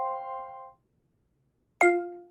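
Two small bell dings, the first a sustained ringing tone fading after about three quarters of a second, then silence, then a second sharper struck ding that rings on, clear and close with no talk.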